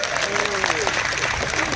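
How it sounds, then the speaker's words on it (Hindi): Crowd applauding at an outdoor political rally in Guna, a steady wash of clapping with a voice speaking and rising over it throughout. "एक बात ताली तो बनती है"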